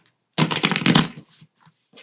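Tarot cards are shuffled by hand in a single brisk riffling burst of dense papery flutter, then a few soft taps and card handling sounds close by.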